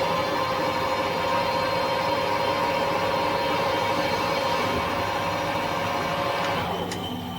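A lathe machines a custom Harley-Davidson part, a steady mechanical whir with tonal hum and a faint rising squeal near the end, continuous and fairly close, with no talking.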